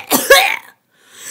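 A storyteller voices a wolf's cough: a single harsh, near, forceful cough-like burst followed by silence, made by a human voice imitating the animal.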